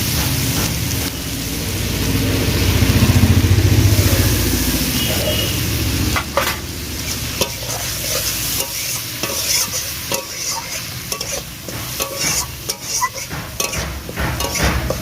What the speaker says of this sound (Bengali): দিয়ে ভালো করে নাড়াচাড়া করে একটু কষিয়ে নেবো দিয়ে দেবো একটু জল